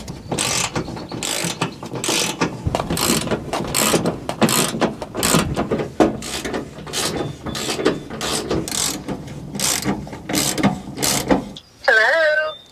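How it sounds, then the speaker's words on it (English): A hand wrench turns on a fastener of a Mack R model truck transmission, giving a long run of quick ratcheting clicks in bursts, close and loud, with a short squeaky sound near the end. "Turning a wrench every once in a while didn't hurt nobody."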